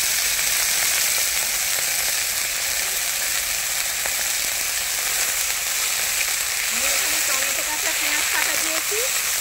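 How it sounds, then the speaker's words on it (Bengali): Tomato and onion sizzle steadily in a pan with a little added water, a constant broadband hiss throughout with some faint scraping toward the end and a voice talking underneath. "একটু জল দিয়ে দেবো, টমেটো আর পেঁয়াজটা সেদ্ধ করবো।"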